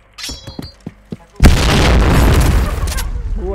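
A grenade explodes in the Point Blank shooter game, a loud sudden boom with a long rumbling tail after a few quick game clicks and pops, with voices of players in the background.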